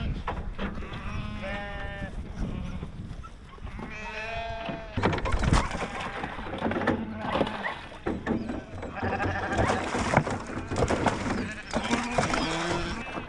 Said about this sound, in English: Well-trained sheep, very well-trained sheep.